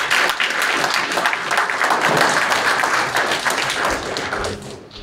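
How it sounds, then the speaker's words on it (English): Sustained applause from an audience at a county sheriff's office annual awards ceremony, dense continuous clapping filling the room at close range, holding steady before easing off at the end. "we can give a round of applause for the leaders receiving the award"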